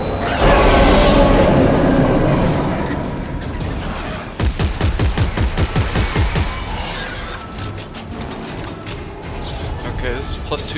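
A rapid burst of weapon fire in Dead Space 3, about a dozen sharp, evenly spaced shots ringing close and loud after an opening stretch of speech, with a voice continuing intermittently over the firing.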